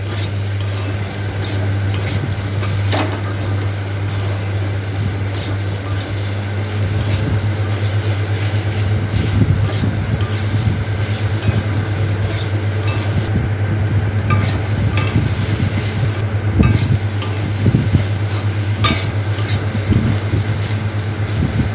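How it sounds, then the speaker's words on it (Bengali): Masala spices with salt being stirred and fried in a pan while cooking taro and potato with prawns, with continuous sizzling, scraping spatula strokes and a low steady hum close by. "লবণ দিয়ে ভালোভাবে নেড়ে নিতে হবে মশলাটা যাতে ভালোভাবে ভাজা ভাজা হয়ে যায়"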